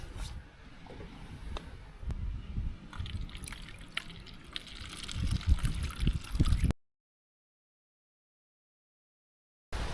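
Water trickles and drips from a Grayl water filter bottle at a camp on Grand Island, Michigan, a close, steady watery patter that stops abruptly partway through and leaves silence.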